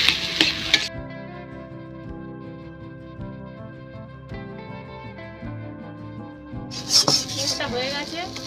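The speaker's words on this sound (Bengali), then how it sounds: "ভালো করে আমি নাড়তে পারবো যাতে কড়ার মতো না লেগে যায়।" A potato and milk mixture is stirred in a pan on the stove, the spoon scraping and sloshing most clearly at the start and near the end, while steady background music plays underneath.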